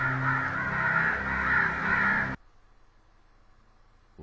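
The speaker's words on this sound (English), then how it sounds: "Those birds are really loud." Crows caw loudly and continuously in the video game Only If 3, a dense harsh chorus that cuts off abruptly into near silence.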